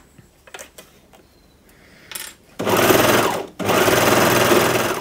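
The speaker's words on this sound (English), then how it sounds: "now I'm just going to overlock those ones." After a few soft handling clicks, an overlocker runs along cardigan shoulder seams in two fast continuous bursts of about a second each, separated by a short pause, close and fairly loud.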